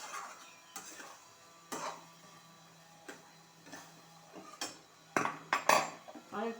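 A metal spoon clinks and scrapes against a pan while ghugni is stir-fried with spices at home. The taps are sharp and irregular, close but fairly quiet, with soft background hiss.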